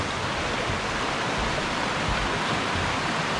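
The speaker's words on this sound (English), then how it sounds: "You have the water coming from up the mountain, flowing down." Mountain water rushing down near a waterfall on the White Oak Falls hike at Skyland, a loud, steady broadband roar of flowing water close by, unbroken and with no voices.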